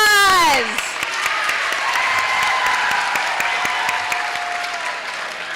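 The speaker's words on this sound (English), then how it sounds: "And give them a round of applause." A voice with a descending tone cuts off at the start, then loud, dense audience applause with scattered sharp claps continues steadily at a middle school moving-up ceremony.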